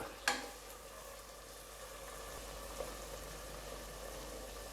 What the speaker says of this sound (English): Let it get fried.